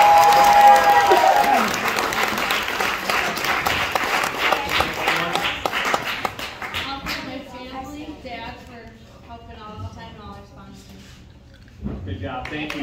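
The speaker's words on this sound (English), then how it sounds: "Give her a round of applause" Audience applause at a 2022 MTS racing banquet, a dense burst of clapping that fades toward the middle, with voices talking over and after it before a brief fresh swell near the end.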